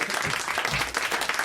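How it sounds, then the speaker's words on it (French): Studio audience applause at a French radio show, a steady dense patter of many hands clapping throughout, fairly close and even, with no talk over it. "On vous remercie Isabelle Vian, on vous applaudit quand même"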